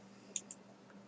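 Two soft mouse clicks, close together, select Add Server in a Minecraft multiplayer menu while joining a Pixelmon server, quiet and isolated with no talk.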